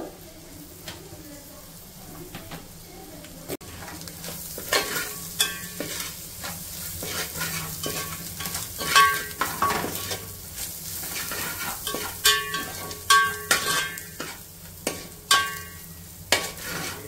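Half a teaspoon of ginger garlic paste fries in a pan for street-side chicken fried rice: a steady sizzle runs under repeated clattering spoon strokes against the pan, growing busier and louder toward the end.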